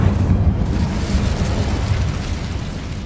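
A fire spell cast in the video game Hogwarts Legacy, a loud, sustained roaring burst of flame with a whooshing rumble that holds steady for about three seconds before easing slightly.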